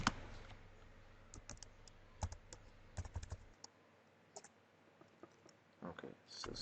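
Quiet, close computer clicks come in small irregular clusters over faint background hiss, the sparse rhythm of mouse clicks at a desk, with no talking during them.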